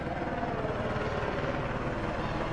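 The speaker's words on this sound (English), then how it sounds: "The reason Mayport, Florida is the loudest, noisiest place you'll ever fish in your entire life. The Navy. Stupid Navy helicopters constantly." Navy helicopters flying over the Mayport jetty in Florida, a steady, fairly faint rotor and engine drone throughout with no talking.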